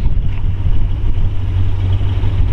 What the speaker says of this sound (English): Listen to the exhaust here, you'd never know it was a big block.